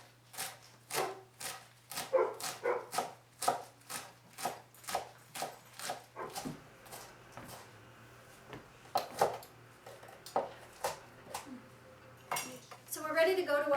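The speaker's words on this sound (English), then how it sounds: "So just a rough chop on your dandelion greens." A knife roughly chops fresh dandelion greens on a cutting board in a series of crisp, evenly spaced strikes. It pauses briefly partway through, then resumes with quicker cuts and a few light clinks.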